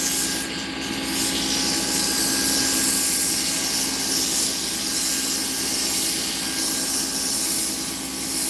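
Wood being sanded by hand with sandpaper, a steady, close, continuous rasping rub that goes on without pause, with no talking.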